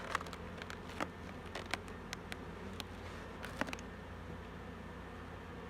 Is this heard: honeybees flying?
yes